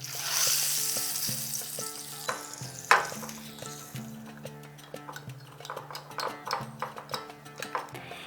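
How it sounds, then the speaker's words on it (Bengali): Whole cumin, mustard seeds, hing and Kashmiri red chili crackle and sizzle in hot oil, close up, with light clinks of a spoon against the pan and a rising series of small pops. "দিয়ে দিচ্ছি তেল, দিচ্ছি গোটা জিরে, গোটা সর্ষে, দিচ্ছি হিং, আর দিয়ে দিচ্ছি সামান্য একটু কাশ্মীরি লাল লঙ্কা"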